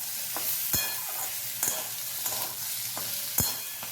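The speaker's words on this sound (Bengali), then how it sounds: "পটলটাকে নাড়াচাড়া করে ভেজে নিতে হবে" Pointed gourd (potol) frying in a pan, a steady sizzle broken by sharp scraping stirs of a spatula roughly every second, close and clear with no voices.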